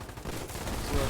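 Dense gunfire from the video game Start of War, a continuous crackling volley that swells slightly toward the end of a brief stretch.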